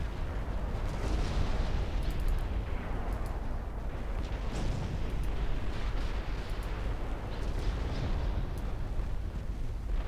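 Long-range naval guns fire in Ultimate Admiral Dreadnoughts, heavy booms and rumbling blasts rolling one into another over a continuous low roar, loud and without voices.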